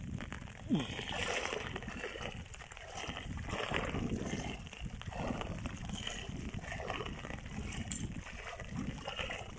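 Floodwater of the swollen Longa river in Karimganj, Assam, rushes steadily in a broad, continuous wash, with faint sloshing and a murmur of distant voices.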